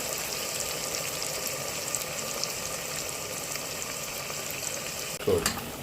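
Masala for zeera aloo fries in hot oil with a steady, dense sizzle throughout, ending with a brief louder clatter as it is stirred.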